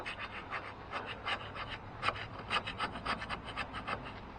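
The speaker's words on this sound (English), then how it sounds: "You can use a wire brush or a scraper on the valves because they're hard steel." Carbon is scraped off the hard steel valves of an Onan small engine's head with a scraper or wire brush, a steady run of quiet rasping, gritty strokes close up, repeating irregularly with no one talking.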